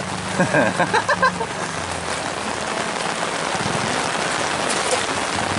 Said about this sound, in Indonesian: Terus lagi hujan, sahabat.